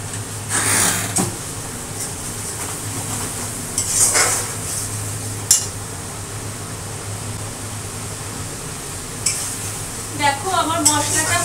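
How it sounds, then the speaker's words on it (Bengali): Spice paste with a little sugar stir-fried in oil in a pan, with a low steady sizzle under repeated clinks and scrapes of a spatula against the pan, and a little talk in the background. "মশলাটা একটু কষুন।"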